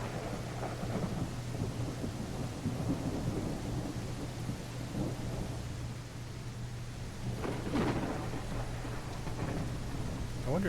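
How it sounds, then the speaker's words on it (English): Steady rain falls with low rumbles of thunder in the dinosaur survival game The Isle, a soft continuous wash with a louder thunder roll near the end and no talking. "I love the rain. Little raindrops on the cement."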